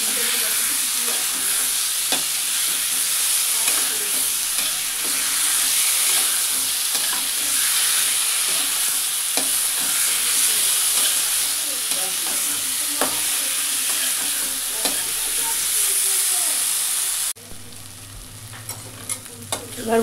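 Potatoes being stir-fried in a pan, with a continuous bright sizzle and repeated scraping stirs that stop abruptly near the end.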